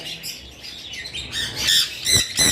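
Sun conure parrots give loud, harsh squawks close by, a few shrill calls that intensify toward the end, with two sharp bursts in the final second.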